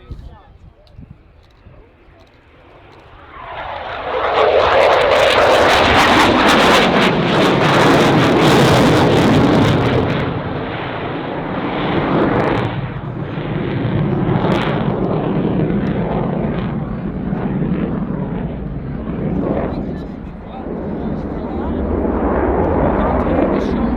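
A Dassault Rafale fighter jet flying a display at the Cosford airshow. A loud, broad jet roar swells in after a few seconds and holds near, with wind buffeting, through the rest of the clip.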